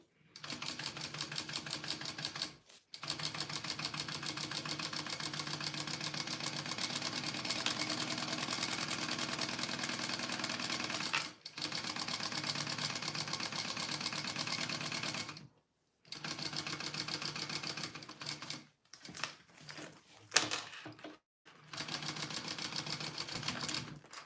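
A sewing machine runs in long steady bursts, basting fabric panels of a bowler bag together, with several short pauses and some faint handling near the end; close and clear.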